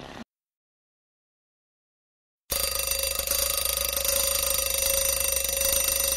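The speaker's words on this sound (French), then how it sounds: "Lorsque son réveil sonna" A loud, continuous electronic ringing starts abruptly after a brief burst and a couple of seconds of silence, then carries on steadily.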